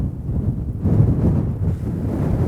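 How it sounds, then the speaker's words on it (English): Strong wind gusts across a Montana hillside, buffeting the microphone with a loud, low, rumbling roar that swells and eases unevenly throughout. "It is very windy though."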